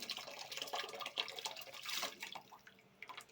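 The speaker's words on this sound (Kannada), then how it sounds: "ಇವಾಗ ಅಕ್ಕಿ ಹಾಕ್ತಾಯಿದ್ದೀನಿ" Dry rice grains pour into a pot of measured water for chicken biryani, a soft continuous rustling patter with small splashes and drips, close and fairly faint, with no talk.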